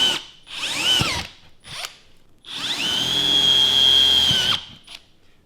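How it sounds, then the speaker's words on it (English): A power drill with a 7/32 drill bit bores holes for a go-kart seat, with a brief burst, a short blip, then a longer sustained whining spin that winds down, heard close up. "We'll be using a 7/32 drill bit to drill these out."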